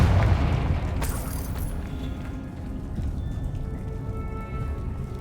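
Confringo fire spell explosion in Hogwarts Legacy, a deep booming blast up front with a sharp crackling burst, then a rumbling, crackling tail that fades slowly.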